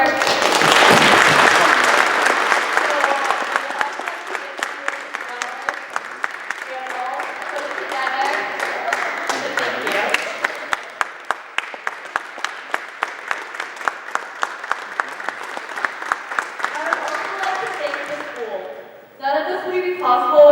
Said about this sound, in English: can you please give a quick round of applause for her